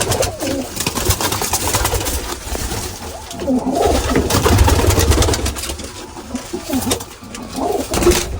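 Pigeons coo steadily inside a large pigeon cage, a dense overlapping chorus of soft throaty calls close by with a low background hum and no talking.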